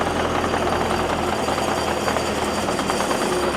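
A cold diesel engine on a trailer-mounted water jetter idles steadily while warming up, a continuous loud rumble with mechanical clatter and no break or change in pitch.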